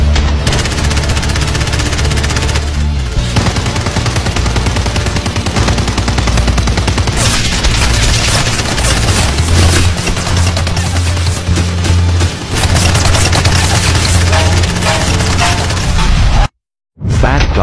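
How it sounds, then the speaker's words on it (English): Movie gunfire with people being shot at, dense continuous bursts of shots and booms, loud throughout before a brief cut to silence near the end. "Good guys getting shot at in the movies."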